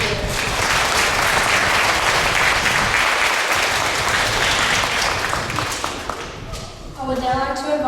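Dense applause from a school assembly crowd for award recipients, sustained for several seconds and then tapering off, before a voice begins speaking at the end.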